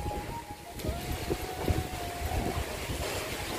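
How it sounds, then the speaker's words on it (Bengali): Strong wind picks up ahead of rain, buffeting the microphone in uneven low gusts that rise and fall, with a sharp burst at the very end and no speech. "জোরে হাওয়াও আসা শুরু হলো"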